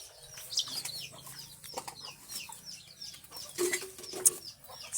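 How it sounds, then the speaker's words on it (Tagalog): Chickens on a rural farm in the Philippine countryside cluck and squawk nearby while their wings flap in quick bursts, with a busy, uneven rhythm of scratchy flutters and a few louder calls. "Nandyan na yung mga manok mo."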